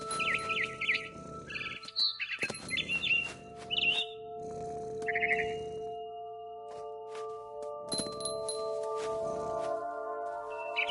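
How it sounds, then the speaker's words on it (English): Barn swallow chirping from What Remains of Edith Finch, bright repeated tweets and short calls in several bursts over a steady game ambience hum, fairly close and clear with no talk. "Then I heard chirping outside my window. It was a barn swallow going back to her nest."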